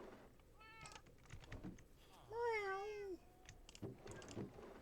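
A cat meows in a video game: a short faint call, then a longer, louder, wavering meow, with soft keyboard tapping in the background.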